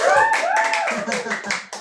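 A church congregation claps hands in a sermon, giving several sharp rhythmic claps under and between a pastor's spoken words.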